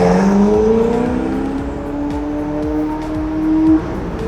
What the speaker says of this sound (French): Ça, c'est pas un échappement standard. Hein. I think it's the Novitec,